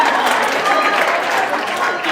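Audience at a birthday celebration event clapping, a loud, close, dense burst of many hands held steady for a couple of seconds with some voices mixed in.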